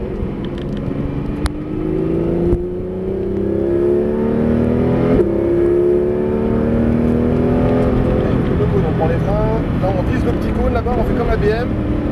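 A Porsche 911 GT3 RS (991) lapping Circuit de Clastres, its engine note climbing loud and close through the gears with shifts and rising revs, tire and wind roar underneath.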